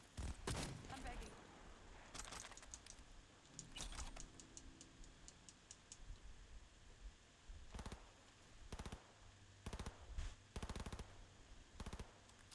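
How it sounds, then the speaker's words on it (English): Bursts of automatic gunfire from the video game Cyberpunk 2077, sharp and loud in repeated volleys separated by short gaps, with game sounds beneath and speech mixed in at times. "Oh, where's that guy shooting from?"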